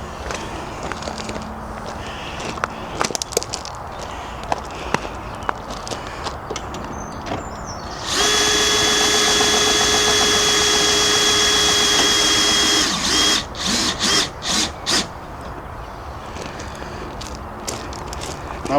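A caravan's front corner legs are wound down with a power drill, giving a steady whirring drone of about five seconds, fairly loud and close, amid quieter scuffs and knocks before and after.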